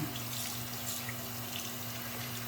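Tap water runs steadily into a bathroom sink, a close, even hiss with a low hum underneath and no talking.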